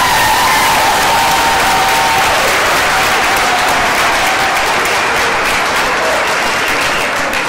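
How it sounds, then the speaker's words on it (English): A commencement ceremony crowd gives graduates a long, dense round of applause, loud and continuous, with a few cheers mixed into the steady clapping. "let's give those graduates a round of applause"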